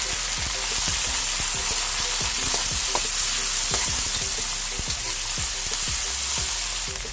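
Onion, garlic and tomato sauté loudly in a hot pan, a dense steady sizzle with repeated scraping and clinking stir strokes from a utensil, close and with no one talking.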